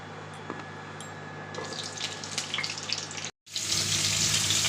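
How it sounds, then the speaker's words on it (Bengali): Young green jackfruit pieces fry in hot oil in a kadai, giving a steady sizzling hiss that cuts out briefly near the end, then returns louder and denser. "এঁচোড়গুলোকে আমি ভেজে নেব।"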